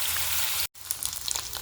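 Liver and kidneys sizzle steadily in a hot frying pan, a close, even crackle with a brief moment of silence partway through and no talking.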